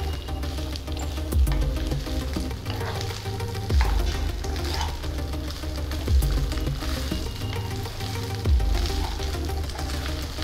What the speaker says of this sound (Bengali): এই দিয়ে ভাতটা আমি সব কিছু দিয়ে নাড়িয়ে চাড়িয়ে ভালো করে ভেজে নেব।